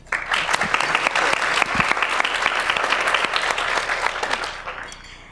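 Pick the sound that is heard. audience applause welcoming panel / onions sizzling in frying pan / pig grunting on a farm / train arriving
audience applause welcoming panel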